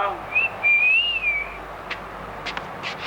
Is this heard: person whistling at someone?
yes